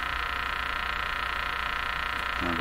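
A Canadian General Electric JK-53 radio buzzing from inside as it powers up, a steady pulsing hum with a rapid regular rhythm, moderately loud, ending with a brief tonal burst at the end.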